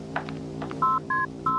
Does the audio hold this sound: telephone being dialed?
yes